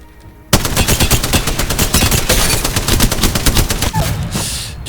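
Heavy machine gun in the Apex Legends video game fires a long, loud sustained burst of rapid rounds, each shot a sharp crack in a steady fast rhythm, heard close with no talking.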